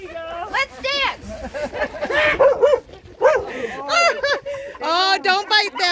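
Several dogs bark and yip excitedly in quick bursts, mixed with whimpers and overlapping human voices and chatter in a lively outdoor celebration at an RV camp.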